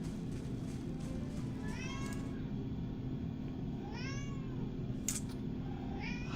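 A cat meows several times, rising and falling calls over a constant loud background hum, with a short sharp click partway through.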